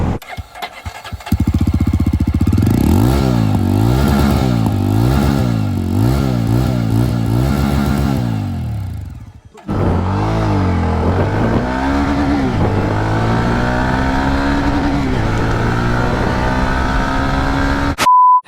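A Honda CB350 or Jawa 42 motorcycle accelerating hard from 0 to 100, with a loud, close engine rising through several gear shifts, then a pause and a second sustained high-revving pull.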